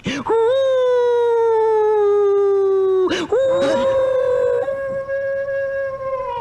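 A long, sustained mournful howl with a steady pitch, briefly broken by a sharp yelp before the howling resumes and carries on, sounding like a voice imitating a dog.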